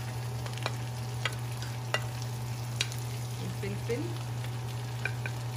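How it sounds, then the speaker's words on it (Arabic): Onions, garlic, carrots and lemon slices are stirred in a frying pan for Alexandrian-style shrimp, giving a soft, steady sizzle with scattered scraping clicks from the utensil while someone speaks briefly. "وتقلبي كل ده مع بعض."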